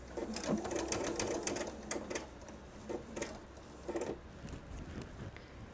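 A sewing machine fitted with a walking foot stitches binding onto a quilted table runner in short bursts of rapid, close clatter separated by brief pauses, with faint talking.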